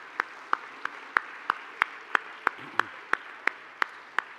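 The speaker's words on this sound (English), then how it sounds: "Let's have a round of applause for them." Sparse, evenly spaced claps at an anniversary awards gala, sharp individual hand claps ringing out one by one in a slow steady rhythm over a quiet room, only a few people joining in.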